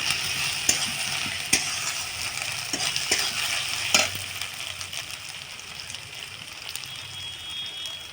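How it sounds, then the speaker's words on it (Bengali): Ginger-garlic paste is stirred into onions frying in a pan for a katla fish curry, a bright steady sizzle broken by several sharp spoon knocks and scrapes. "আদা বাটা ভালো করে নাড়িয়ে নেবো যাতে কাঁচা গন্ধটা বেরিয়ে"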